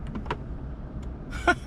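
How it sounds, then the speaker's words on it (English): Motorized glove box of a 2019 Lexus LC500 opening inside the leather-and-suede cabin, a faint low motor hum with two short soft clicks or thumps near the end, close by and quiet. "See, even the glove box is motorized."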